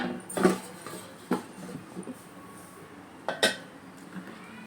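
A metal lid is flipped over and set onto a cooking pan, giving a few separate clanks and clinks spread over several seconds against a quiet kitchen background.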